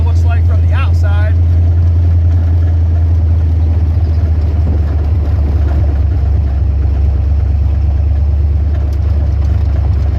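A hot rod with a 306 engine pulls up, its engine running as a loud, steady low rumble throughout, with someone talking over it near the start and wind noise.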